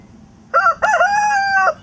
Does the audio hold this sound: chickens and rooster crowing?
yes